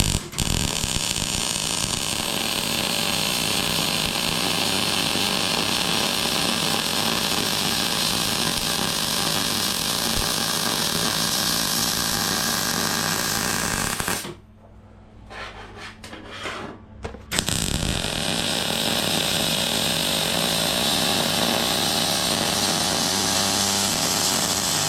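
A power tool grinds down and blends a weld on steel mudguard brackets, a loud, steady, gritty whine that runs almost continuously, with one brief pause of a few seconds before the grinding resumes.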